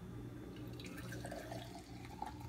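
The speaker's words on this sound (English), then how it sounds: "Pouring the hot water in there." Hot water pours into moldy dishes sitting in a kitchen sink, a steady faint splashing and trickling with a few drips, heard alone without talk.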